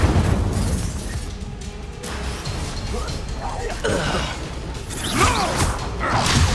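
The Incendio fire spell in Hogwarts Legacy amid combat, with loud rushing whooshes, crackling bursts and impacts layered over continuous game noise.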